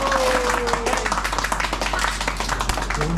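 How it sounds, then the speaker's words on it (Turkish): A small group of people applauds at a künefe stand in Antakya, Turkey: close, brisk clapping with rhythmic hand claps sustained throughout, over a low background hum. "Alkış"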